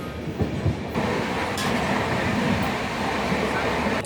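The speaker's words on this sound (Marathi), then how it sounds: "इंटरसिटी एक्सप्रेस आलेली आहे" An Intercity Express train on the Mumbai–Surat route rumbles steadily alongside a station platform, with a broad mechanical roar and faint rail clatter throughout, plus a voice briefly audible in the background.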